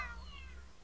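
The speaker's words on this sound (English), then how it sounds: "So the main villain has a cat." The villain's cat in the Gitaroo Man video game gives a single short meow that falls in pitch and fades over a low background hum.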